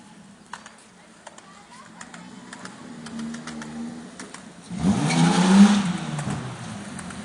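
A car with a newly fitted aftermarket exhaust rounds a corner and passes, its engine rumble swelling loudly near the end, while people talk and react nearby.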